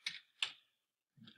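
A few keys are tapped on a computer keyboard, two sharp clicks followed by a pause and one softer keystroke, close and quiet with no talking.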